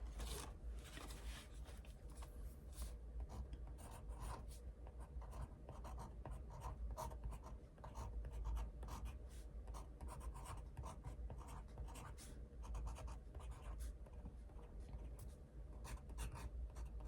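Pen or pencil scratching steadily across paper in continuous strokes, close and fairly quiet, with no talking.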